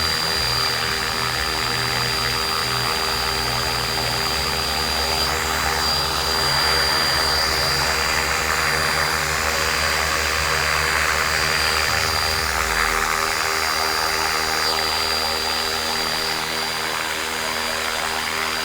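A radio-controlled UH-1 Army model helicopter, 450 size, descends as the throttle is eased: a loud, constant close rotor and motor whine that drops in pitch partway through.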